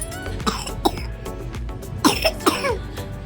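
A child coughs in a few short, harsh bursts, two close together early and two louder ones later, with room noise between.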